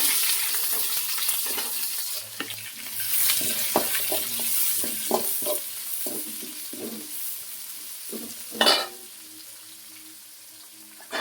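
Chana dal, greens, green chillies and onion fry in a pan for vermicelli upma, a soft sizzle broken by repeated clattering stirs and scrapes of a spoon, with a sharper knock near the end and no speech.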